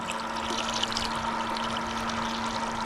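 Vinegar drains from a tankless water heater during a flush, making a soft, steady trickling pour with a low hum underneath, with no talking.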